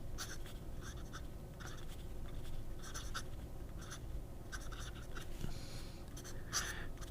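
A Sailor Pro Gear fountain pen writes on paper, its nib making soft, repeated scratchy strokes in short bursts close up and quiet, with brief pauses between words.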